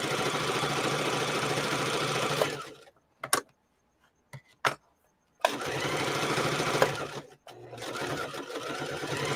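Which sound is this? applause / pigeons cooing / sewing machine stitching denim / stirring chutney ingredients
sewing machine stitching denim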